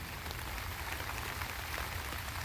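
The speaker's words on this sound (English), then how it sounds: "rain, rain, rain." Heavy rain pours steadily onto a vegetable garden planted with carrots and zucchini, a dense, continuous hiss of close drops with no voices.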